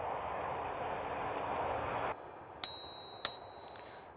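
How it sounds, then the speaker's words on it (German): A bicycle bell on a gravel bike rings twice in quick, bright dings. The rings come just after the rumble of a passing train cuts off, leaving a quiet background. "Klingel am Gravelbike"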